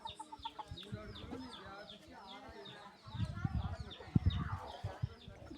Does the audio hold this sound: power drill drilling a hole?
no